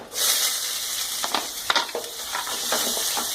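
Loud, bright sizzle of finely chopped onions frying in oil for Andhra-style cucumber dal, with a few stirring scrapes and crackles mixed in.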